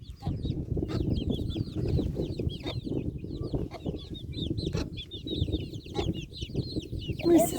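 Hens and chicks cluck and cheep in a backyard coop, a busy overlapping chorus of soft low clucks under many rapid high peeps, close and continuous.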